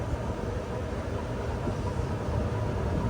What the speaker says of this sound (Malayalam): നമ്മുടെ ട്രെയിൻ ഇപ്പം ഇവിടെ നിന്ന് തന്നെ ഇപ്പോൾ ടേൺ ചെയ്യും.